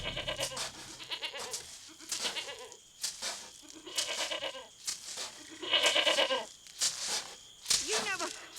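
A goat bleats repeatedly in loud, wavering cries close by, with people talking between and over the calls.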